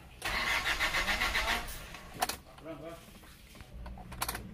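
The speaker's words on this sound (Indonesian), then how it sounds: "kita kontak terus kita starter. Nah, harusnya nyala seperti ini" Isuzu Panther diesel engine cranking on the starter and catching, a steady churning crank of about two seconds followed by a rougher running burst, fairly close, with speech-like sounds mixed in.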